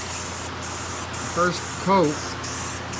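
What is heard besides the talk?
spray painting with orange Rust-Oleum spray paint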